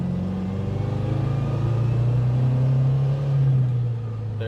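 A 1962 Alfa Romeo Giulietta Sprint Speciale pulls in second gear, its engine a close, steady droning hum that swells slightly before easing off.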